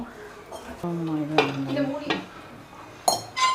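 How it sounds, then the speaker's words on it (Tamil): A lid goes onto a pot of stuffed brinjal curry with a few metallic clanks and scrapes, followed by a ringing clink and a final knock, all close and fairly quiet. "இப்போ நான் இதை மூடி வைக்கிறேன் ஒரு அஞ்சு நிமிஷம்"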